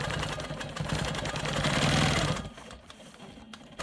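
A sewing machine stitching in the ditch on a quilted star cross block, a steady, close mechanical whir of rapid stitches that stops after a couple of seconds, leaving quiet handling noise.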